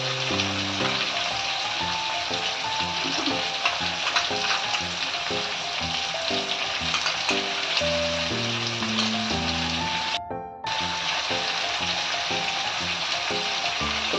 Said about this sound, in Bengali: বাটা নারকেলটাও এই সময় দিয়ে দিচ্ছি। সবগুলো দিয়ে ভাজতে হবে।